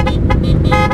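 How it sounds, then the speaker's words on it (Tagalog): A vehicle horn honking loudly and close during a long-distance motorcycle endurance ride, several rapid musical toots layered over constant heavy engine and road rumble. "Ang galing ng busina ni Sir,"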